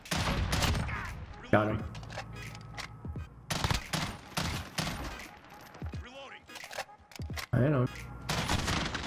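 FAMAS bursts in Call of Duty Modern Warfare, loud gunfire cracking in quick clusters across the match, mixed with game effects and a player talking over the action.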